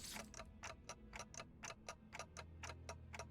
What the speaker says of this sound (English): Ticking is all I can hear.